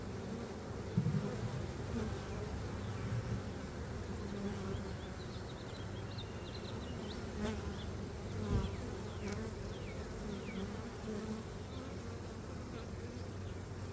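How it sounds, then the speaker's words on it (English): A swarm of honey bees buzzing all around, a dense continuous drone with individual bees passing close by now and then. "Still a lot of bees out here."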